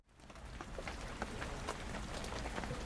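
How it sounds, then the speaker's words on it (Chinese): Heavy rain falls on a Wednesday night around a semi-sheltered second-floor terrace at a Hong Kong police sports club, a steady, fairly quiet wash of drops that builds in quickly and holds. "天降大雨"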